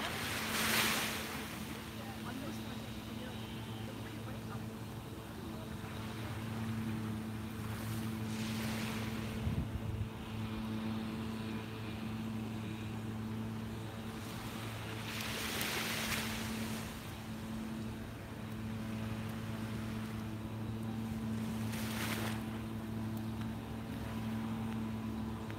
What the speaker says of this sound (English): and the sounds of the waves.